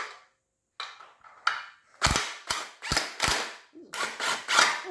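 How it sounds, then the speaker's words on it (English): Torque wrench ratcheting while tightening bolts on a 1968 Ford Mustang transmission: a few faint clicks, then a run of loud, sharp metallic ratchet pulls in quick succession, up close and with no talking. "You're just going to lightly tap them in, and then we'll torque them down."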